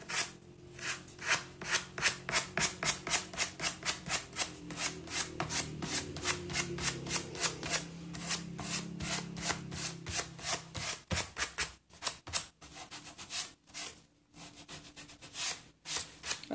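Sandpaper rubbed back and forth over a painted wooden document box, a long run of fast, regular rasping strokes that later slows into separate scrapes with short pauses, close and steady.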